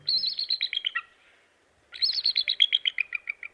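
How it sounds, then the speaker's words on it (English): A bald eagle calls from high in a tall tree in a winter valley, giving two bursts of squeaky, high-pitched chittering notes in rapid descending series, clear and close against a quiet background. "Look high into the top branches of a tall tree, and you may see the source of this call, a bald eagle."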